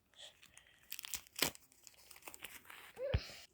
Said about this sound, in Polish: do kart przejdźmy otworzymy karty teraz